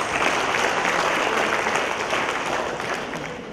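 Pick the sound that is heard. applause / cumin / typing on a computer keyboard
applause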